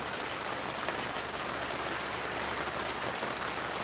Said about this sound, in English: It's not raining, it's Jen's box of wine leaking on the tarp